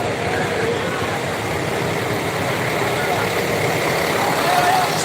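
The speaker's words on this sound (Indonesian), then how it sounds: "kondisi jalan hari ini di KM 12 sangat padat merayap teman-teman ya" Congested holiday-return traffic on a highway at KM 12, with buses and trucks crawling and idling, a steady low engine rumble that fills the whole stretch while someone talks over it.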